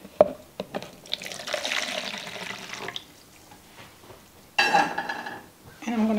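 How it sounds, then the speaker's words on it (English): Water from a tap pours into a measuring cup in a kitchen while making an orange creamsicle cake, a couple of short splashy bursts with pauses between, close and moderately loud. "So now then I'm going to put 1 cup of water in my measuring cup."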